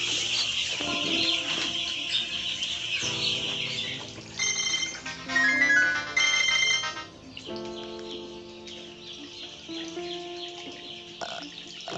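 A phone ringtone sounds in a poultry house full of newly arrived broiler chicks, playing as a short melodic burst mid-clip over the constant high peeping of the chicks.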